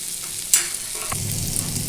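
Bitter gourd frying in a pan as a little water is poured in and stirred, with a sharp hiss at the splash followed by a steady, close sizzle and soft scraping.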